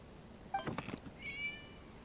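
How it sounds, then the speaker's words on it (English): A cat in Genshin Impact gives two short meows, a brighter chirping call and then a longer rising mew, clear and close against a quiet game background. "Oh, what's that sound? A cat. It was just a cat."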